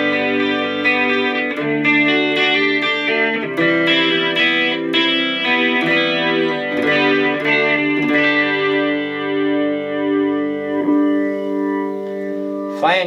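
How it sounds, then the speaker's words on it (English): Sustained guitar chords ring through a Fender Mustang Micro headphone guitar amp set to chorus reverb, giving a swirling, spacious tone. Strums repeat every second or two at a steady, loud level with no voices. "Chorus reverb."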